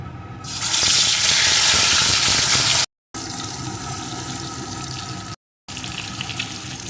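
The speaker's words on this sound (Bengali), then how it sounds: "এখন আমি ম্যারিনেট করা মাছের পিসগুলোকে একে একে এর ভিতরে দিয়ে ভেজে নেবো" Marinated pieces of katla fish slide into very hot mustard oil for doi katla and set off a loud, steady broadband sizzle that stays continuous for several seconds, with two brief silent gaps.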